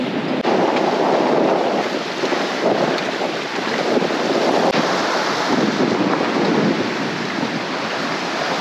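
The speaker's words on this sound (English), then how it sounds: "So windy." Strong wind roars continuously across the microphone on a boat in rough South Pacific seas, with surging gusts and rushing water noise, loud and unbroken.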